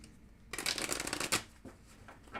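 Playing cards are riffled and shuffled close up, a crisp burst of flapping card noise after a quiet start, ending in a few softer taps.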